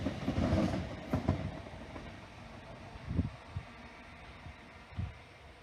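A train passing through Liverpool South Parkway station, a low, faint rumble with soft periodic wheel thumps and clacks that fades slightly toward the end.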